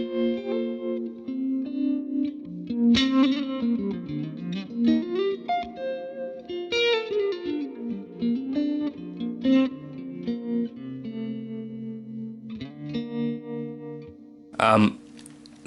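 A clean electric guitar played through a tremolo pedal rings out as slow, pulsing chords and melodic lines, with a final sharp strum near the end.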